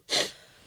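A single short, breathy burst, a sneeze, sharp at the start and trailing off quickly into quiet.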